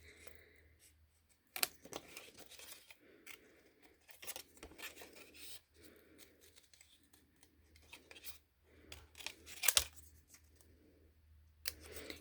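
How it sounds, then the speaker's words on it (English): Scissors snip around a stamped paper card image in a quiet room, a few sharp cuts standing out among soft paper rustles and handling sounds, close and fairly faint. "Okay, so we're just gonna finish trimming this out."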